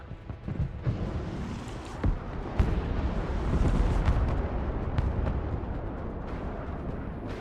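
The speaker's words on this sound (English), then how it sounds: "Rocket artillery ready, sir." Rocket artillery fires in the video game Broken Arrow: a string of sharp launches and booms over a heavy, rumbling low roar that swells and lingers throughout.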